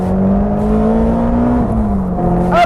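A Caterham 310R idles at a junction and the engine is blipped, a close steady drone inside the car that rises briefly in pitch near the end.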